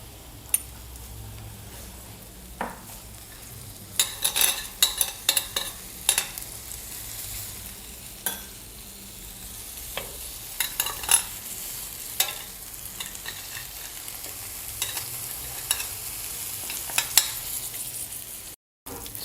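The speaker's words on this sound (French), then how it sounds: "On va mettre un peu d'huile pour faciliter la cuisson." Salted fish frying in oil in a pan, stirred with a utensil, gives a soft steady sizzle broken by sharp scraping and clacking strokes at irregular intervals, close and fairly quiet.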